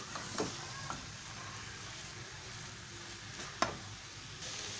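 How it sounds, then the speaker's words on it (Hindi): A spoon stirs a thick cooking sugar mixture in a pan, faint close scraping over a low steady sizzle, with two or three sharper knocks of the spoon against the metal and no talking. "चम्मच चलाते रहना है इसमें।"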